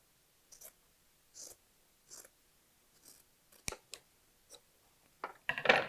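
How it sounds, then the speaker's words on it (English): Scissors snip down the center of a quilt block's fabric, giving a series of short, crisp cuts spaced about a second apart, close and fairly quiet, ending in a louder cluster of snips. "you can even use just a pair of scissors, and I'm going to just trim right down the center."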